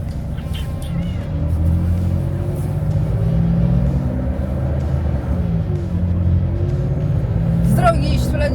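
A truck pulling away to head for an unloading stop, its engine giving a steady low rumble that builds slightly as it moves off, continuous and close throughout.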